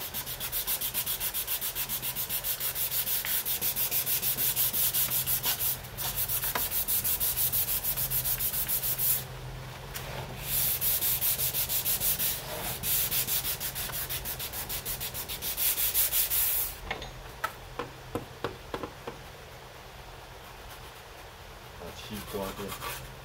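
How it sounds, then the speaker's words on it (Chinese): Hand sanding of a Taiwan cypress wood cabinet, a steady scratchy rubbing that runs continuously with brief pauses and a few short strokes near the end, close by, with no speech. "均匀的把它打磨就可以了"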